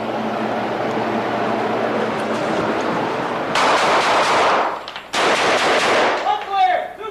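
Rapid gunfire from a shooting drill, loud dense bursts of repeated shots with a short break between volleys, over a noisy outdoor range background.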